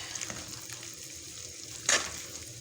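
Soft, steady sizzling of tempering spices in oil in a pan for moong dal khichdi, with light stirring clinks and one brief louder splatter, fairly quiet and close.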